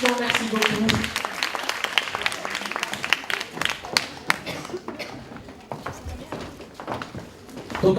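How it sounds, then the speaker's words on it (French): Scattered clapping from an audience, uneven and moderately loud, with some sharper individual claps standing out and fading toward the end. "on continue de vos applaudissements"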